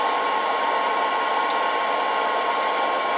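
A hair dryer blows continuously and loudly at close range while drying hair, a steady whirring rush with a constant hum, no voices.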